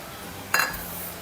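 A cooking pan set down on a stove before making raw mango gojju: a single brief metallic clink, fairly faint, in an otherwise quiet kitchen.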